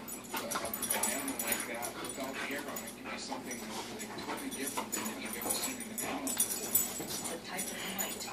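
Two dogs play together at a house, with close yips, whimpers and playful barking layered over a steady busy background of scuffling; people talk throughout.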